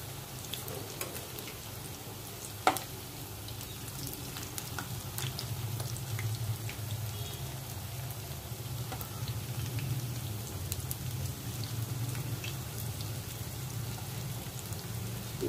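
Lau kofta frying in a pan of oil gives a soft, steady sizzle and bubbling, quiet and continuous throughout with one sharp spatter or clink near the start.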